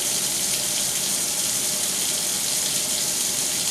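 Tap water runs steadily into a sink while makeup brushes are being washed, a constant close hiss with no breaks.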